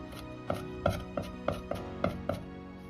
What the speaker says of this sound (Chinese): 再来准备少许的生姜和大葱，一定要先拍破，再剁碎。